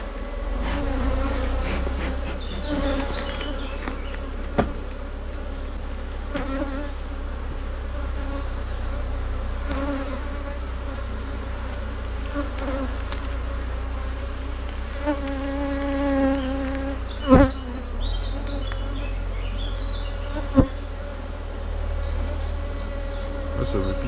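Honeybees buzz steadily around an open divisible beehive during queen marking, a dense continuous insect drone with a few sharper close passes, loud and sustained throughout with no talk.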